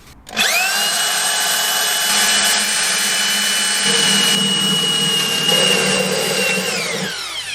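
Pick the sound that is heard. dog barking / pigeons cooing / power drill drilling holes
power drill drilling holes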